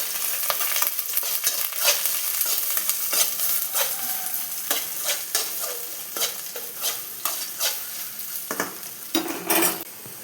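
Cut okra stir-fries with softened onions in a pan for vendakka thoran, giving a soft continuous sizzle with frequent rhythmic scrapes and clinks of a spoon stirring close by.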